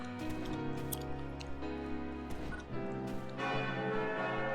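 A bell chimes in the PC online role-playing game Phantasy Star Online 2. The sustained, ringing tones sit over steady game music with light ticking, and no one speaks.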